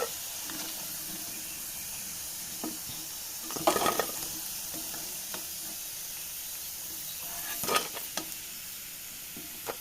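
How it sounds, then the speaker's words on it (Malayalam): Potato pieces frying in hot oil give a steady, soft sizzle and hiss, broken by two louder bursts of crackling and stirring near the start and end. "ഇതേപോലെ നമുക്ക് ബാക്കിയുള്ളത് ഫ്രൈ ചെയ്തെടുക്കാം."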